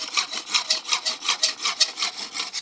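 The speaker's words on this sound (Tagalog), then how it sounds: "Ito yung ngayon yung usong talim ng lagaring bakal. May diamond." A hand hacksaw with a diamond blade cuts metal, rasping back and forth in a steady rhythm of about a dozen strokes, close and clear, with no voices.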